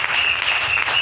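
A church congregation applauds, a dense, loud, steady burst of many hands clapping together, heard briefly and without speech.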